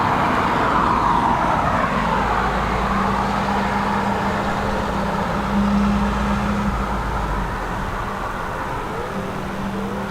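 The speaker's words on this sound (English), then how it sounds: "And a KLM 777 just going overhead as well." KLM Boeing 777 airliner passing overhead near Dublin Airport in high winds, a loud broad jet roar that slowly fades into the distance with a droning engine tone.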